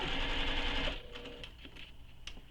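A sewing machine stitches a bulky backpack exterior, running in a steady, fairly close mechanical whir for about a second, then stopping, followed by a few light clicks and handling noises.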